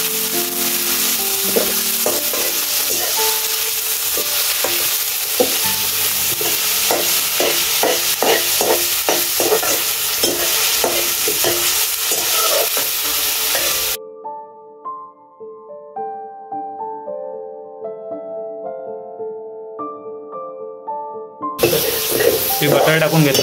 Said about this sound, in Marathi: टोमॅटो मस्तपैकी फिरवून घ्यायचा.